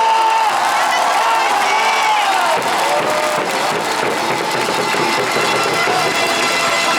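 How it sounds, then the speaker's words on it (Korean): A stadium crowd at a Korean weekend baseball game cheers and applauds a player, loud roaring voices and whoops over steady clapping, with a brief higher shout early on. "선수에게 힘찬 박수와"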